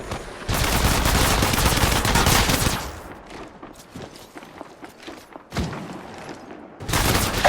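Bursts of rapid video game gunfire as the player comes under attack from multiple teams, loud and dense at the start, thinning to scattered shots and thumps, then a heavy burst again at the end.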